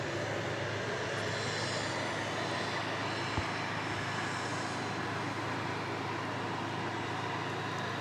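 Airbus A300 jet engine at an airport at night, a steady, even roar held throughout at moderate distance, with no talking.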